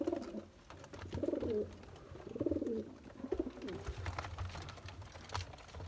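Several pigeons coo in repeated rolling phrases at a bird market where Teddy, Cross and Golden breeds are sold, the calls close and fairly loud over a low background hum.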